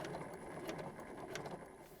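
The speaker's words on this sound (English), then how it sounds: "The basting stitch is just going to be the longest stitch on your sewing machine." A sewing machine running a long basting stitch through a fabric wallet, a fast, steady mechanical clatter of needle and gears heard up close and alone for about two seconds.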